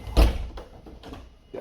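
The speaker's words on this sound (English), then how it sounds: "Let me close the door first." A door in a penthouse apartment in Baku, Azerbaijan swings shut with one close, solid thud, followed by faint shuffling and handling noise.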